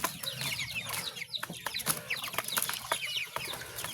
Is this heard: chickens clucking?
yes